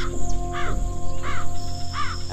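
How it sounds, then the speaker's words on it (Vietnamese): A crow caws three times at an even pace, loud and fairly close, over a steady background hum. "Tiếng quạ kêu là bình thường thôi"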